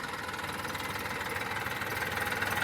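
A Massey tractor engine idles nearby with a continuous, even, rumbling throb and a faint knocking vibration throughout, with no talk.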